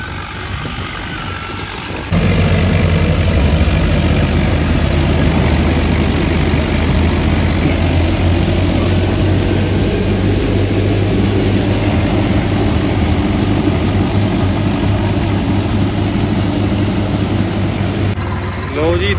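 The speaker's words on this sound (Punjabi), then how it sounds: "ਦੋਨੇ ਟਰੈਕਟਰ ਸੋਨਾਲੀਕਾ ਹੈ ਜੀ," Two Sonalika 60 tractors run together at night during straw-making after the wheat harvest, a loud, steady low engine drone that continues unbroken with wind noise.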